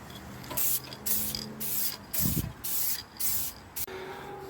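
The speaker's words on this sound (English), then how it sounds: "spray it again with satin black. Krylon satin black." Krylon satin black spray paint hisses from a can onto a junkyard Silverado folding center console in about six short, sharp bursts. Brief pauses separate the bursts, and each one sounds close and crisp.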